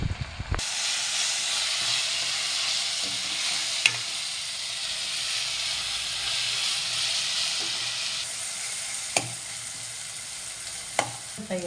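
Green chili, ginger, mustard seeds and cumin sizzle in hot oil as a tempering for chayote palya, a loud steady frying hiss with occasional clinks of the stirring spoon.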